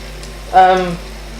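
Mushy peas stew with fresh tomato cooking in a pan, a brief burst of sizzling that swells for about half a second and then settles back into a low simmering hiss.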